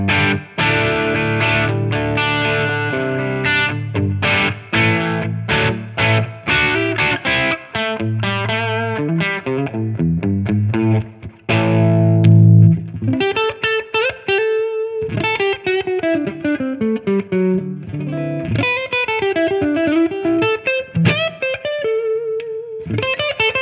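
Crunchy overdriven electric guitar plays a riff of chords and single notes through a distorted vintage amp with preamp gain on 4, loud and upfront with a touch of reverb.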